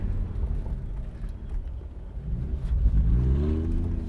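Lamborghini Gallardo engine rumbling and revving as the car runs a tight cone course at a car charity event, a steady low drone that swells and climbs in pitch toward the end.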